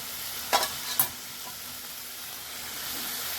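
Tomatoes frying in spicy masala for prawn curry over low heat, a soft steady sizzle with two brief stirring clatters early on, no talking.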